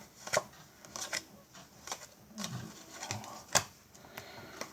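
Playing cards from a gaffed trick deck are handled and pulled out, giving a string of soft, irregular flicks and snaps close up, with quiet rustling between them.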